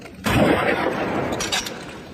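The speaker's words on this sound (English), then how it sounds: "As the claw snaps shut, it fires a blast of bubbles." A snapping shrimp shuts its claw underwater, firing a sonic bubble blast: one sharp, loud crack that bursts out and leaves a hissing, crackling wash of bubbles behind it.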